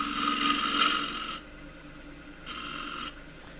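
The edge of a wooden cylinder on a lathe being rounded over with 120 grit sandpaper gives a close, harsh sanding rasp in two bursts: a longer opening pass, then a short second one after a quiet gap.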